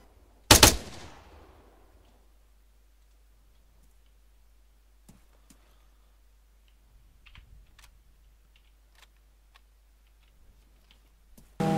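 Gunfire in the Arma 3 video game, heard as one loud, sharp shot near the start, followed by sparse faint ticks and clicks over a quiet background, with another loud burst cut off at the very end.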